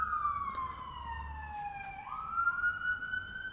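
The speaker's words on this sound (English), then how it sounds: "it's just a siren." A siren wails outside as an emergency vehicle passes, its pitch sliding down then rising again, moderately faint over a low background hum.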